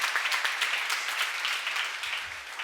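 An audience applauds at a Korean church seminar: a dense, continuous wash of many hands clapping that holds steady and then eases slightly toward the end, with no voices over it.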